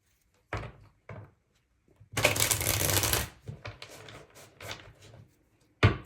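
Tarot cards being shuffled close by, a few quick riffles followed by a longer dense burst of card slapping and sliding, then softer handling and a final snap, with no voices.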